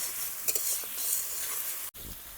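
Spices with half a spoon of turmeric powder sautéing in oil in a pan for a Bengali egg ball curry, giving a steady close hiss and sizzle with a few stirring scrapes.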